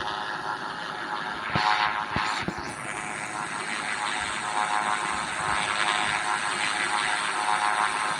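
Airplane engine droning steadily as the aircraft flies in the video game GTA, a broad continuous roar with a few sharp clicks near the start.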